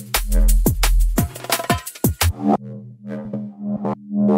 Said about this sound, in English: lovely little mid-bass grunts and growls and whatever that sound like this.